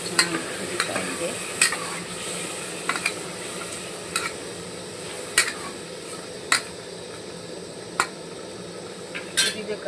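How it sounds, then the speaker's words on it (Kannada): Boiling masala cooked with a ground mixie paste is stirred steadily in a pot, with a constant bubbling sizzle and sharp spoon knocks against the metal rim at uneven intervals. "ಮಸಾಲ ಹಾಕ್ಕೊಂಡಲ್ಲೂ ಮಿಕ್ಸ್ ಮಾಡಿ ಚೆನ್ನಾಗಿ ಕುದೀತಾ ಇದೆ"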